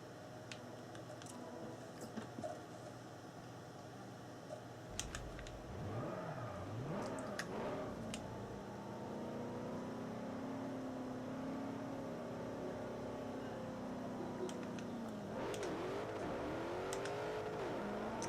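Noble M600 engine in Forza Motorsport 4 during a drift run, revving through rising and falling sweeps, with a lower steady drone and faint tire-like ticks, moderately quiet throughout.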